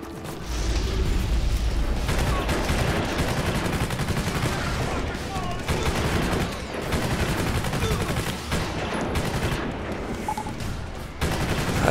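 Gunfire in the video game Prototype, a dense, continuous run of shots and mechanical clatter filling the whole stretch at fairly high level, with brief dips between bursts.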